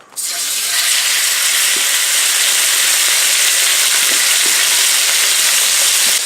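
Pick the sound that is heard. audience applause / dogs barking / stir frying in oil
stir frying in oil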